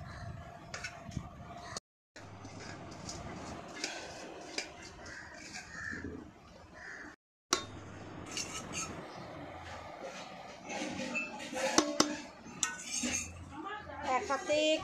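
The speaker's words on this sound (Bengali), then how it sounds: "এবার এটাকে ভালো করে মেশাবো।" Utensils clink and scrape against a bowl as food is mixed at home in irregular bursts of clatter. Someone talks over the mixing throughout, and there are brief silent gaps.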